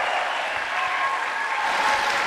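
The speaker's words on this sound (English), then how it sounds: "You keep that noise going and those hands clap together" Steady crowd applause and cheering at a BMX finals event, continuous and fairly loud throughout, a broad wash of clapping with a faint whistle-like tone running through it.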